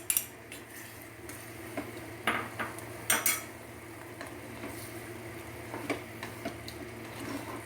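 A utensil scrapes and clinks against a cooking pan while large prawns are stirred, a series of irregular close metallic taps and scrapes over a quiet background hiss.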